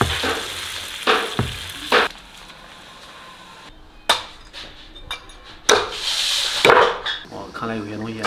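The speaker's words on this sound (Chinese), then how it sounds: "这个羊脑煎一下做汤" Lamb brain frying in a pan, a close sizzle punctuated by clattering knocks and stirring bursts, with a dog barking and brief voices mixed in at moments.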